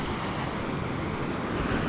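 Ocean waves and wind roar as a steady, dense wash of surf and gusting air at the shore in Deepwater National Park, Australia, with no voices.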